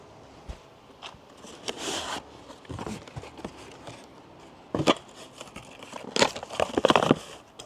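Crinkling plastic and cardboard packaging as Stihl Bolo tiller tines are unpacked, scattered rustles and crunches with sharper bursts toward the end, close and mostly quiet, no talking.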